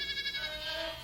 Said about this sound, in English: The sheep!